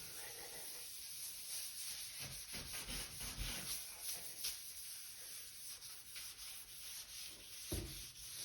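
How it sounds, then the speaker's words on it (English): Scrubbing the surface of a granite kitchen countertop near the faucet to lift off old sealant and deposits, a steady rough rubbing that runs throughout with several harder strokes, close and fairly quiet. "Have to give it a better scrub."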